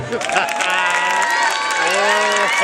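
Audience at a village gathering in Köprübaşı applauds, steady dense clapping filling the room while a voice and a held musical tone carry over the top.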